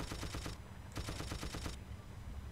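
Bursts of rapid automatic gunfire in Battlefield 1942, two long rattling strings of shots separated by a short gap, loud and close over a low rumbling background.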